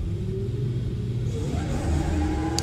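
A Nissan S15 drift car at a drift competition launches from a standing start, its engine rumbling low and steady before rising in a brief rev near the end, loud and close.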